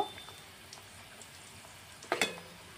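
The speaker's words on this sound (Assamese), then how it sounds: "এনেদৰে ওলট পালট কৰি খাজাকেইটা ভাজি ল'ম।" Oil sizzles quietly as khaja fry. A soft, even hiss is punctuated by a brief clatter of turning near the end.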